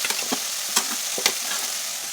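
Tomato and onion paste sizzles in a hot pan while being stirred, a steady frying hiss broken by a few sharp scraping clicks of the spoon against the pan.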